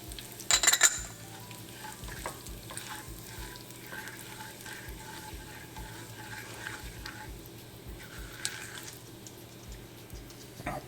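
Cumin seeds frying in hot oil in a pan for dal tadka, an even close sizzle with faint rhythmic ticking pops throughout and a louder clatter of stirring near the start.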